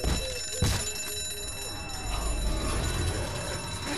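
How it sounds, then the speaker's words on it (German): An electric alarm bell ringing in ZombiU, a steady metallic tone running under game ambience with a low rumble rising toward the end. "Er war mit dem Alarm verdrahtet"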